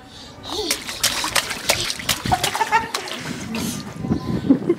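A small child splashes in water, making busy, irregular sloshing and splattering sounds throughout. Voices chatter faintly underneath.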